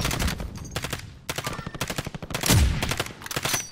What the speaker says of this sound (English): I got somebody else shooting at me though